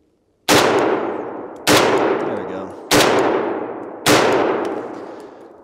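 Four loud, close rifle shots from a Hungarian designated marksman rifle, evenly spaced about a second apart, each with a sharp crack and a long, decaying echo.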